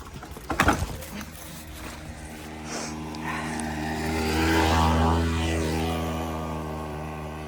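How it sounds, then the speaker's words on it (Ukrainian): A motorcycle engine swells from a distance, rising to a loud droning pass and then slowly receding, after a few clunks at the start. "Попереду, це мотоцикл."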